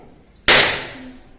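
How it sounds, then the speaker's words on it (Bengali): A small coconut is smashed open once for a home puja, giving a single sharp crack with a brief splintering decay, close and loud, with no talking. "ও এসে নারকেলটা ফাটাবে"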